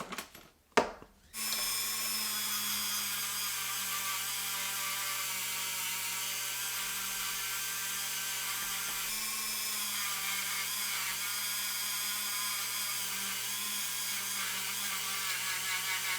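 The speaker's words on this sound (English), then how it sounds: "We'll give it a good wire wheelie polish." A wire wheel spins steadily against the metal base of a restored Redline Hot Wheels Toys "R" Us Super-van, a continuous loud whirring grind that starts after a few brief knocks and runs unbroken to the end.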